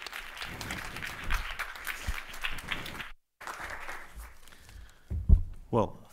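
A conference audience breaks into applause, a moderately loud spread of clapping that runs for a few seconds, cuts out briefly, then resumes more thinly under a speaking voice and some close knocks.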